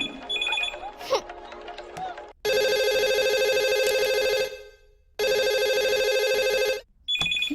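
A phone ringtone sounds in two long, loud bursts separated by a short pause, with indistinct voices and movement before the first ring.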